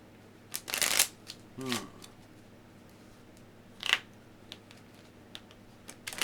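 Playing cards being shuffled, with several quick riffling bursts spread across a quiet background and faint voice-like sounds in between.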